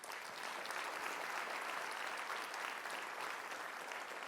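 Audience applause at a nurses' union biennial convention, a steady, dense wash of clapping from a large crowd sustained evenly throughout with no voices over it.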